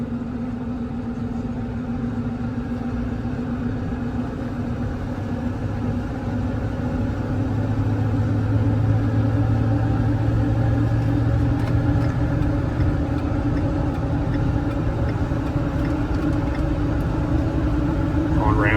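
Ford F550 4x4 bucket truck with a 6.7 Powerstroke turbo diesel driving and accelerating, a steady low engine drone and road roar that grows slightly louder midway, with people talking inside the cab.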